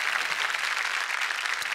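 Studio audience at a Marathi comedy show applauds for a guest, steady even clapping at moderate loudness, sustained without pauses.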